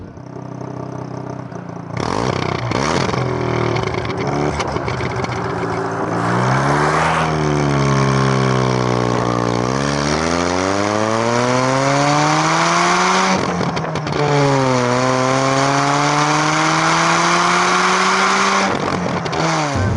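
A Mazda RX7 rotary engine with its exhaust revving hard, loud and close, the pitch sweeping up and down through several throttle blips after a brief quiet start, with no talking.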